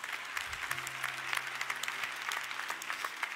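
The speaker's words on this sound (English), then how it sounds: "See, you guys want to clap?" A church congregation applauds during a sermon, a soft, dense patter of many hands clapping at a distance, with faint sustained low tones humming underneath.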